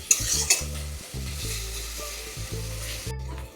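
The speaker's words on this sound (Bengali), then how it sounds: "ভালো করে নাড়াচাড়া হচ্ছে পাঁচ মিনিট ভালো করে নাড়াচাড়া করতে হবে" Mutton curry spices frying in mustard oil while being stirred in a pan, a steady sizzle broken by repeated scraping strokes of the spoon, close and moderately loud, with no talking.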